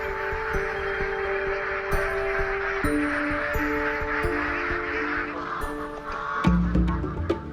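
A flock of farm-raised ducks on Guanglu Island in China quacks in a steady, overlapping chorus at close range, with a louder burst of calls near the end.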